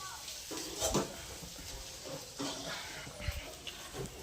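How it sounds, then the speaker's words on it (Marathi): Onion frying in hot tempering oil for pithla, a gram-flour dish, gives a soft, steady, faint sizzling hiss with a few light clinks of kitchen utensils. "तिकडे बघा कांदा फोडणी मारते आहे"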